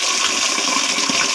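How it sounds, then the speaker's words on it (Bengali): Water from a kitchen tap rushes in a steady, loud, close stream for a brief moment, used to wash fried rice grains. "এখন আমি টেপে পানি ছেড়ে ধুয়ে নেব"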